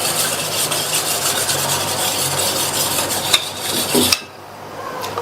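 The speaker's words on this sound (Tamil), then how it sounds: "ஒரு விஸ்க் வச்சு நல்லா கட்டி இல்லாம கரைச்சிக்கங்க." A whisk stirs ground powder into water in a bowl for a kurma base, a steady close scraping and rubbing against the bowl that runs for about four seconds and then stops.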